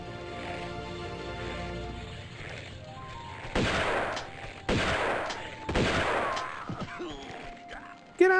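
Gunfire in the video game Tomb Raider 2, several sharp loud bursts of shots in quick succession over background game music, with a player's voice reacting between them.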